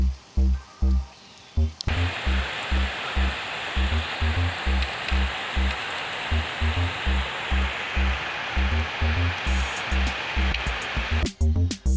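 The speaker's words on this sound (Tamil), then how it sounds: "மழை இன்னி விடாமல் பேஞ்சிக்கிட்டு இருக்கு." Heavy rain pouring steadily on a farm, a dense continuous hiss of water with rhythmic low thumps running underneath, sounding close and loud throughout.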